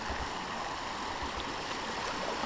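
East Cadron Creek running over rocks, a steady, soft broadband rush of flowing water heard alone at a moderate distance.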